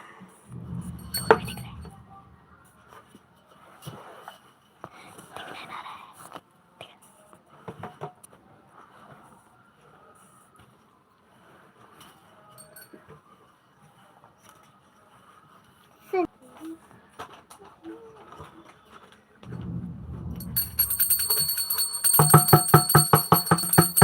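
A hand bell rings rapidly and loudly near the end of a home shrine aarti, following a long stretch of quiet murmuring, faint clinks and a few soft thuds.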